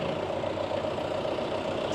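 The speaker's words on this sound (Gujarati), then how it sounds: "ટ્રેક્ટર આટા મારે છે." A tractor engine runs on a strawberry farm with a steady, loud, droning mid-low rumble throughout, unchanging and alone without voices.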